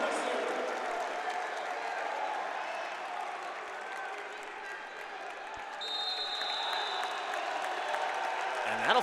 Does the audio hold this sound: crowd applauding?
yes